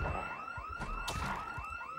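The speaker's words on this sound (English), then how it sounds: "God, the alarm is so loud." A supermarket alarm in the game Project Zomboid blares continuously, with repeating rising whoops close and loud, steady throughout.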